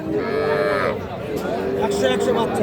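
A heifer calf gives a loud, drawn-out moo nearby, then calls again more briefly, with faint voices and farm bustle in the background.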